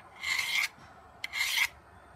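A file skating across a 1095 steel bushcraft knife blade in two separate rasping strokes, each about half a second long and close by, with a short pause between them.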